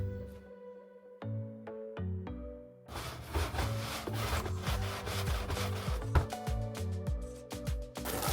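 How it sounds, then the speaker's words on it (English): A broom scrubbing a tall wooden fence during cleaning before staining, a few short separate scrapes first, then continuous, vigorous rough bristle rubbing against the wood with rapid back-and-forth strokes, close and fairly loud. "the scrubbing with the broom on the fence"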